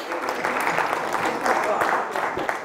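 Audience applause for contestants at a dictation contest in Hardenberg, a dense continuous patter of many hands clapping with some voices mixed in throughout.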